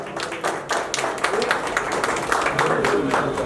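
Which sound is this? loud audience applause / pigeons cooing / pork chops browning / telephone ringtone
loud audience applause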